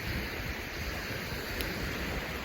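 Sea waves at Chornomorsk beach in November, a steady broadband wash of surf with some wind, continuous and fairly soft throughout without distinct breaking crashes.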